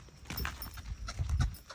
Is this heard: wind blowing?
no